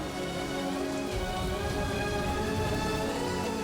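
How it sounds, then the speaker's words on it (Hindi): Heavy rain falls in a steady, dense hiss without a break, close and continuous, with no voices over it. "ये बारिश किसी तूफान का संकेत है"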